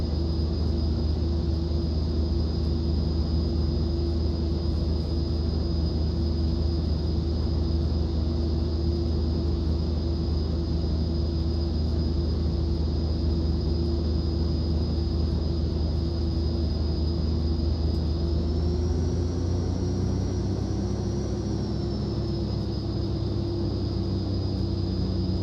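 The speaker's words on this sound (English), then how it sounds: "turn our taxi light on. And let's taxi out." A propeller airplane taxis in the X-Plane 11 flight simulator, a continuous loud engine rumble with a steady high whine that rises slightly near the end as it speeds up, and no talking.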